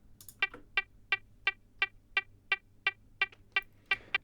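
Bright reverb-drenched synth pluck from a techno drop, pitched up two octaves with delay and EQ, repeating in a steady pulse of about a dozen short sharp hits, close and alone.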